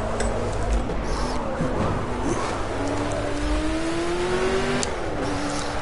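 A Ford Mk IV race car in Project CARS revs at partial throttle. The engine drones steadily, and its pitch climbs and dips in long sweeps under faint background ambience.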